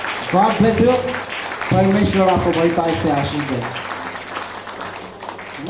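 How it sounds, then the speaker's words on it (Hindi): Church congregation clapping to send off departing guests, steady applause running under someone speaking nearby, with the clapping carrying on alone and thinning toward the end. "एक बार जोरदार तालियों के साथ में इनको विदा करते हैं।"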